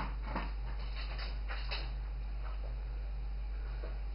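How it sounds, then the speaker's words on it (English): A pet dog eats noisily nearby, with faint, scattered crunching and licking clicks over a constant electrical hum. "My dog is here eating and making a lot of noise."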